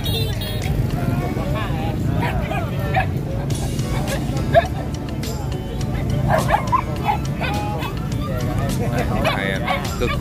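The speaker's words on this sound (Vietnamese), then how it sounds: "Dãy này có rất là nhiều chú chó đẹp này." Several dogs bark and yip at the Bac Ha dog market on New Year's Day, sharp barks recurring through a busy crowd hubbub, with nearby talk continuing throughout.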